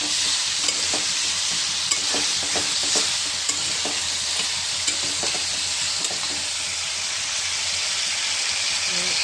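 Papaya and potato pieces fry in a pan for a banana-flower curry, a steady broad sizzle running throughout with repeated scraping stir strokes and light clinks of the spatula, close and fairly loud.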